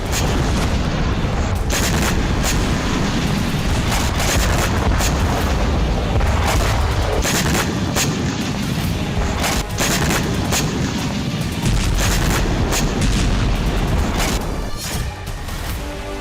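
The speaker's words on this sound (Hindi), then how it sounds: "जिस तरह कुर्स्क के इलाकों में बम गोला बारूद बरसाया है" Artillery shelling and explosions in the Kursk region roar in a dense, loud barrage, overlapping booms and blasts rumbling continuously with heavy low-end thunder throughout.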